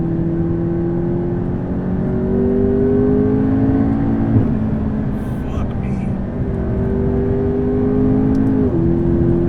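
A modified 840 HP McLaren MP4-12C engine accelerating hard from inside the cabin, revs climbing and dropping through gear changes, with a voice talking over it.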